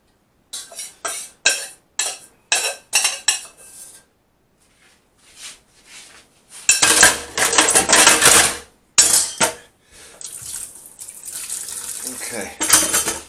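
Pasta sauce poured into a pot of cooked pasta: a string of short clattering, scraping bursts, then a louder sustained wet sloshing, close by, with brief pauses and more scraping toward the end.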